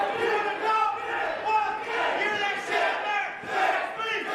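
A large crowd at a pro wrestling event chants in rising and falling waves, roaring rhythmically at a distance with no clear individual voices.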